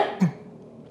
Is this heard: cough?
yes